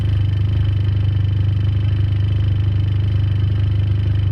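A Ford Probe GT engine fitted with a T04b turbo idles steadily, a low, even, rhythmic hum with a slight pulsing throb, close and loud with no other sounds.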